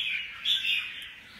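A pet songbird gives a short, clear, high chirping call up close, with a slight rise in the middle and no talk over it.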